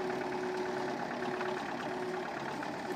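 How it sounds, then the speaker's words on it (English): Tractor engine in Farming Simulator 2013 idles and runs steadily throughout, a continuous mid-low rumble with a faint tonal hum, loud and close with no pauses. "now we just kind of turn our little tractor"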